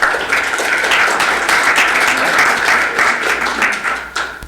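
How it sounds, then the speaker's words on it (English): Polite golf-clap applause from a medical briefing audience, a dense patter of many hands that holds steady for several seconds before tapering slightly at the end. "Thank you for that golf clap"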